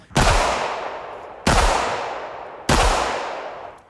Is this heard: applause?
no